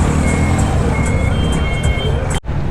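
Heavy traffic at a roundabout in Juba, South Sudan: loud, close engine rumble from trucks and buses with a repeating high reversing beep pulsing throughout, dense and continuous, and people talking amid the noise.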